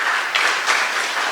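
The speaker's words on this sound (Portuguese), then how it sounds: "Dá uma salva de palmas aí para o Senhor" A church congregation claps together in a short, steady burst of applause, dense and fairly loud, with no voices over it.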